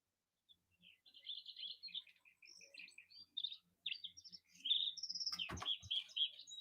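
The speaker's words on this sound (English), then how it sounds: "I'm going to put on some birds because my tinnitus is" Recorded bird song played back to soothe tinnitus, with several birds chirping and trilling in quick varied phrases, some notes sharp and piercing, fairly close and clear against a quiet background.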